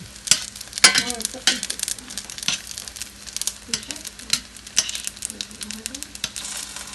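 Pork potstickers fry and brown in a hot pan, giving a close, steady sizzle broken by scraping and stirring clatter, with bits of movement and handling over it.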